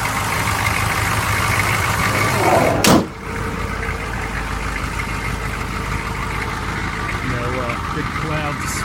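A 1984 Chevrolet Suburban K20 idles with an exhaust leak, a steady, close engine rumble interrupted by a sharp thump like a door closing, with voices in the background.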